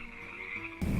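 Frogs croak outside a house after days of heavy rain, a steady, fairly faint trilling chorus that continues alone, joined near the end by a louder burst of broadband noise.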